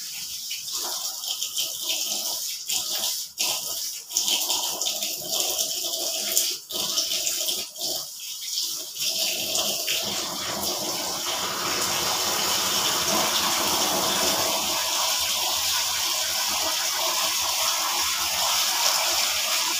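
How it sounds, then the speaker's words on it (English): Washed clothes being rinsed in water, splashing and sloshing in bursts at first, then giving way to a steady loud gush of running water that lasts to the end, with no speech. "Rinse it well."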